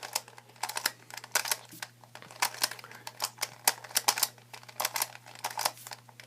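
A Rubik's-style puzzle cube being twisted by hand, with rapid bursts of sharp plastic clicks and clacks close up, coming in quick uneven runs.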